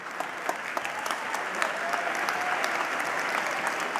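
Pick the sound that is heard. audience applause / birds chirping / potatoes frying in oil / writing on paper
audience applause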